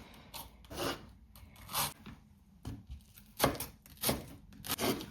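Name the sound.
onion being sliced thinly with a knife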